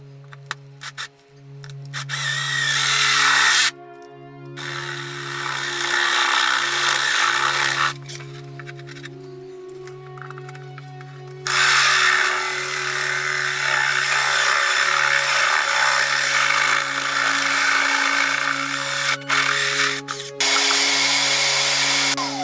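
A power drill bores holes in wood for a floor flange, its motor whining loudly in long bursts broken by brief pauses, with a steady low hum underneath.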